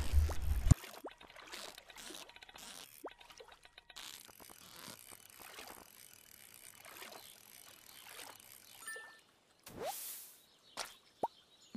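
Fishing on a river in the farming game Stardew Valley: reel ratcheting and clicking, light plops and water splashes, and a sharp splash near the end as a catch comes up, without talk.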